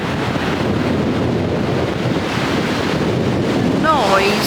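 Strong wind roaring by the sea, a steady loud buffeting rush over crashing surf with heavy microphone wind noise throughout, and a faint voice-like warble near the end.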